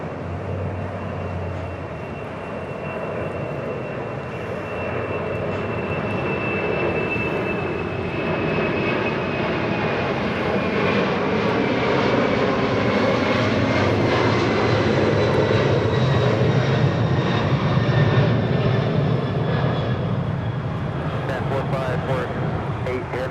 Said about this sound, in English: That was Atlas Air 4548 going around.